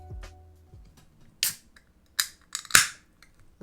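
A can of Strata IPA craft beer is cracked open, giving a few sharp, close clicks and hissing bursts spread over a few seconds in an otherwise quiet room.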